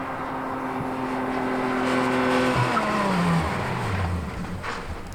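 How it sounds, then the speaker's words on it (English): A sports car braking hard from 60 mph with its tires skidding, engine tones dropping away under a short, loud tire squeal and road roar that fades as the car halts. "And the sports car stopped in 85 feet."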